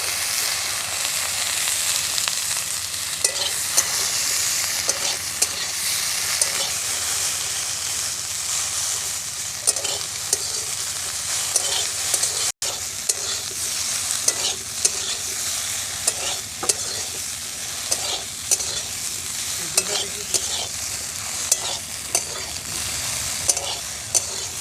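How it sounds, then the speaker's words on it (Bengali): Okra (bhindi) frying in a pan for a Bengali-style sour prawn dish, a constant bright sizzle broken by repeated scraping stirs and a few sharper clinks. "ভেন্ডিগুলোকে একটু লাল লাল করে ভেজে নেব।"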